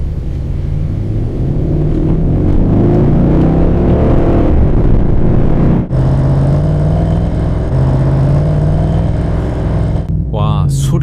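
Muscle car exhaust rumbling and revving loudly up close, a deep steady growl with rising and falling throttle, one sharp momentary cut, and a brief sound at the end.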